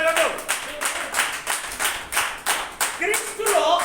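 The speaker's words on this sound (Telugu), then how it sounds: "చప్పట్లు కొట్టి ప్రభువును" Members of a church congregation clap together in a steady rhythmic beat during a Sunday service, loud and close, with a voice speaking over it.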